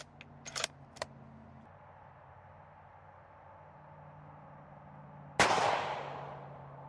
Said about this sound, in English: Let's shoot at least one more.